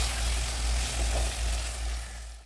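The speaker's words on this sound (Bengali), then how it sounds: "তো এগুলো আমি আবারও কিছুক্ষণ কষিয়ে নিব।" Pre-fried potatoes and eggs sauté in a pan with a dense, steady sizzle, close and fairly loud, and a low rumbling hum beneath it. There is no talking.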